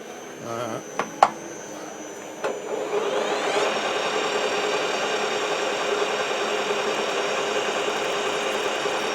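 A metal lathe spinning up and turning 20 mm bar stock at 770 rpm, a few clicks and clunks then a steady close whirring hum with a faint high whine, running on evenly with no speech.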